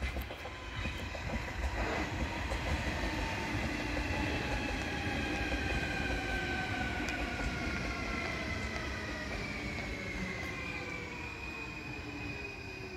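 A Munich MVG U-Bahn subway train passes with a steady rumble and rolling clatter lasting many seconds, while rising and falling tonal whines from its motors sweep across the sound.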